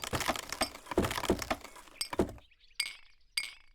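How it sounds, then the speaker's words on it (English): Glass pieces clink and chink sharply in a dense burst of bright, ringing hits, followed by a few isolated bottle-like dinks with quiet gaps between them, close and alone. "Why does that glass sound just sound like two bottles going dink?"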